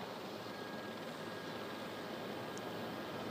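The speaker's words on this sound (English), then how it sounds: "Mighty strong run landing gear here. That's the tires burning out there." An Airbus A320 making an emergency landing with faulty landing gear, tires burning on the runway, carries as a distant, steady broadband roar of aircraft noise, fairly faint and unbroken.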